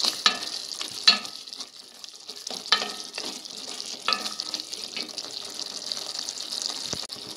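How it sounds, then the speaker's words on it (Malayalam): Thick ladies finger masala gravy bubbles and sizzles in a pan at close range, with a soft steady hiss broken by several sharp clinks and spatters. "1-2 മിനിറ്റ് നമുക്കിതൊന്ന് തിളപ്പിച്ചെടുക്കാം"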